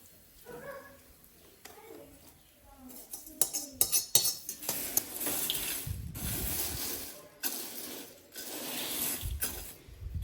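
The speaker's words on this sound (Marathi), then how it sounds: "आता हे आपण सगळं एकत्र करून घेऊ" Homemade Diwali chivda being tossed with leftover oil and crisped coriander in a metal vessel, giving repeated scraping, clattering and rustling bursts of flakes against the pan, fairly close and steady with short pauses.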